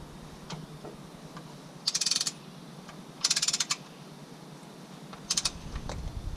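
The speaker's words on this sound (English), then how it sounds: "I'm going to go around the perimeter to make sure they're all torqued to spec" Torque wrench clicking as transmission pan bolts on a Duramax Allison transmission are tightened to spec, three short bursts of rapid ratcheting clicks separated by quiet pauses, close by with no talking.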